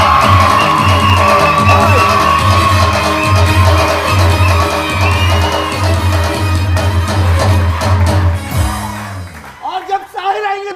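A studio audience on a morning TV show claps, cheers and whoops loudly over backing music. Shouts and whistles rise near the end as the music cuts off.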